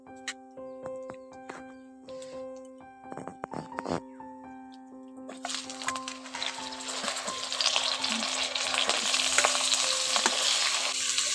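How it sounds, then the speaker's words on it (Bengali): Sliced ridge gourd dropped into hot oil with fried tempering spices, starting with a few clinks and stirs, then breaking into a loud, continuous close sizzle that keeps building. "এবার এর মধ্যে আমি ঝিঙ্গাগুলো দিয়ে দিচ্ছি।"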